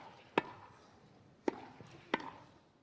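A tennis ball bounces three times at uneven intervals, each hit a sharp, hollow thud close by against a quiet background.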